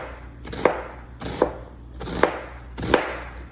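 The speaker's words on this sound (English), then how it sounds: "Gonna slice up half an onion." A knife slicing through half an onion on a cutting board, four crisp, evenly spaced cuts about three-quarters of a second apart, close and clear with no talking.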